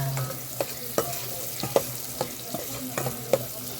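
Onion and garlic sautéing in a pan before crab is added, a soft steady sizzle broken by a series of sharp scraping stirs of the spatula every half second or so, close and fairly quiet.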